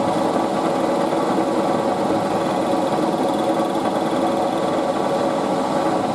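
Machine tool steadily cutting an aluminium windscreen bracket for a WW2 Morris CS8, a continuous even whirring hum with a faint rapid buzz, close and unbroken throughout.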